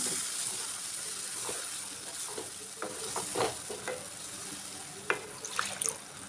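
Egg curry masala sizzling in a pan as water is added, with a steady frying hiss, scattered stirring scrapes and a few sharper spatters toward the end; no talking.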